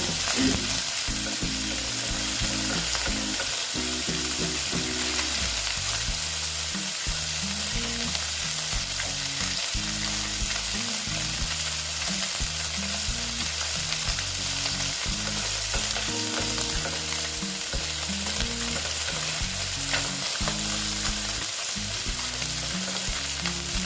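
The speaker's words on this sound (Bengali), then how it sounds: "মাছগুলো আমি এখন ভেজে নেব" Mourala fish fry in a pan with a loud, continuous crackling sizzle lasting throughout, over a low droning tone in the background and no talking.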